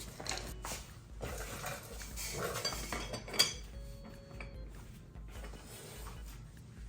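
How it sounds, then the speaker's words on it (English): Metal tools clink and scrape softly while a big wrench works loose the bottom bracket on a 29-inch GT Performer BMX bike, with one sharper metallic knock amid quiet handling. "now we gotta grab our big wrench and we gotta loosen up that side"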